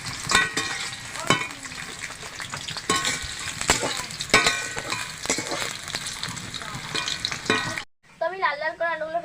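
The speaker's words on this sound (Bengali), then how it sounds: "তো তেল গরম হয়ে গিয়েছে, আমি আলু দিয়ে দেবো। একটু নাড়াচাড়া করে নেবো।" Potato pieces fry in hot oil, giving a dense, crackling sizzle broken by sharp clacks of a spatula stirring against the pan. A voice speaks briefly near the end.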